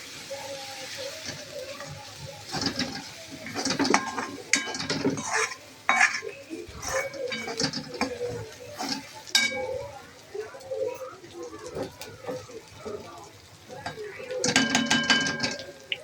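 A spice masala is roasted in a pan and stirred, making a steady run of scraping and clinking utensil-on-metal sounds with a few louder bursts, while a person talks over it.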